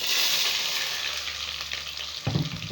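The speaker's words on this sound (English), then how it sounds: "You allow it to fry a little bit before putting the tomato." Onion fries in hot palm oil for a stew, a loud, close, continuous sizzling hiss that fills the pan, with a brief clatter of stirring near the end.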